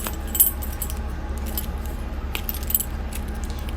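A set of door keys for a 2022 Jayco Jay Feather 27BHB travel trailer jangles and clinks close by, with scattered metallic rattles and a couple of sharper knocks against a low background hum.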